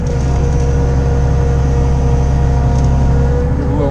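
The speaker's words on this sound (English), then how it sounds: "start our auger" Grain auger running steadily while loading soybeans into a dump truck on a farm, a continuous loud mechanical drone with engine hum, unbroken for the whole stretch.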